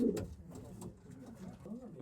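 Pigeons kept for sale coo softly and repeatedly nearby, with a few louder throaty bursts over faint background noise.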